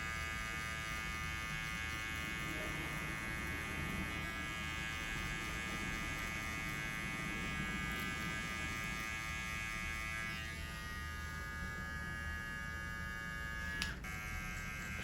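Electric hair clippers fitted with a half guard, lever fully closed, cut a low taper fade, producing a continuous close electric buzz with a steady hum and only slight shifts as the blade moves through the hair.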